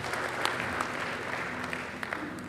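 Church congregation applauding after a sermon, a steady crackle of many hands clapping at moderate distance, continuous throughout with scattered sharper claps standing out.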